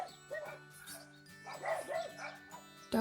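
Dogs bark in several short, sharp bursts at close to middle distance, with some yips, spread irregularly over a few seconds and ending in a loud final bark.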